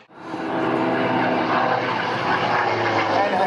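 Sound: Hawker Sea Fury propeller aircraft flying at airshow

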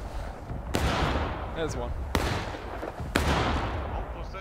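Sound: musket volley fire in the video game War of Rights

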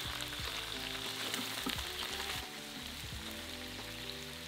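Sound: diced onion frying with seared beef short ribs

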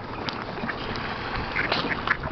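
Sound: ducks quacking

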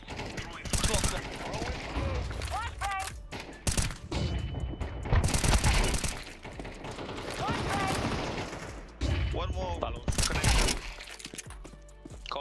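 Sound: gunfire in the video game Counter-Strike 2

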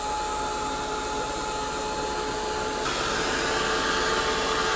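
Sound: hair dryer drying art journal page

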